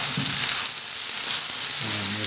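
Food sizzles and fries in a pan while being stirred, a bright continuous hiss with a few soft scraping touches and a brief voice at the end.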